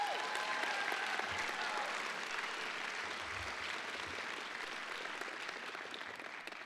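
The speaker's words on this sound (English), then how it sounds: "Let's give our graduates one more round of applause," Audience applause for graduates at a high school graduation ceremony, a steady wash of many hands clapping that holds throughout and slowly tapers, with no talk over it.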